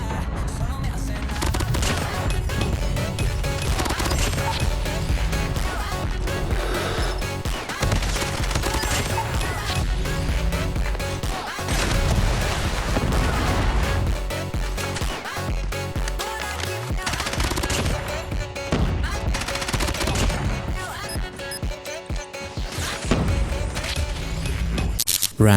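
Rapid, continuous RAM-7 assault rifle fire in the mobile game Call of Duty: Mobile rattles in dense bursts throughout, with a person talking over the shooting.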